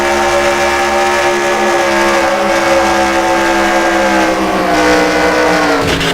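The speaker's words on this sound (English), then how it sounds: "he's going to be hit pretty hard here as he clobbers into the side of Christopher Martin's Lowe's Chevrolet." Racing video game in a NASCAR-style stock car race: a Lowe's Chevrolet is hit hard from the side amid a dense, steady roar of many engines at full throttle, with a sharp scraping impact near the end.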